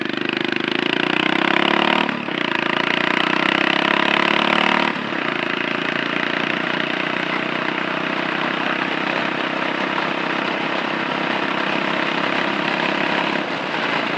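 A Suzuki S40 Boulevard motorcycle drones steadily while being ridden, its single-cylinder engine note loud and continuous with wind rush, shifting slightly in pitch around a brief dip early on, and no talking over it.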